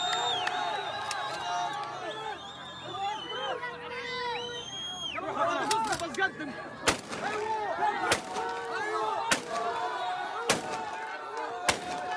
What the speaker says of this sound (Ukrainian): Озброєні чоловіки стріляли у повітря.